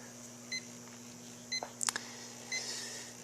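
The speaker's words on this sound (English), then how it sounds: "The only thing beeping here is my meter, because my meter doesn't like the fact that I'm drawing that much power" Intermittent electronic beeps from a power meter reading a Renogy 2000 W pure sine wave inverter under heavy load, short high tones repeating roughly once a second over a faint steady hum, quiet and close with no talk.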